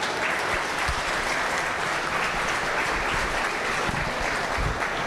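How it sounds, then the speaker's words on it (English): An audience at a sheep show gives continuous, fairly loud applause that fills the whole stretch evenly, with no pause and no talk on top. "give our Unified Showman one last big round of applause"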